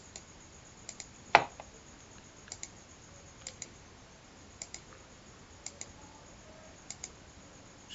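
Light, sparse computer mouse clicks while dragging in Adobe Illustrator, a dozen or so faint taps spread irregularly, some in quick pairs, with one sharper click standing out early.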